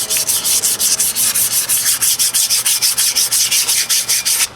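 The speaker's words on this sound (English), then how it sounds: "I'm just gonna come in here with a little piece of sandpaper and do a little light sanding on this braking surface" Rapid back-and-forth rubbing of 100 grit sandpaper against the rusty braking surface of a Chevrolet C10 truck's rear brake drum, a steady rhythmic scratching of about five strokes per second, close and loud with no talk.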